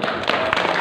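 Brief burst of hand clapping from a gathering after a mealtime prayer at a religious talk, a few loud claps in quick succession, close and short.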